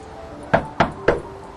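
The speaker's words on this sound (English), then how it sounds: "Knock, knock. Who's there?" Three firm knocks on a door in a Macbeth scene, evenly spaced and close, ringing over a faint steady hum.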